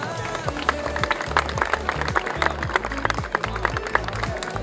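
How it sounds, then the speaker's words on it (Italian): Audience applause at the Miss Riviera del Brenta beauty pageant in Calcroci di Camponogara: continuous clapping over a loud background of rhythmic music, with crowd noise mixed in. "Un grosso applauso anche a loro."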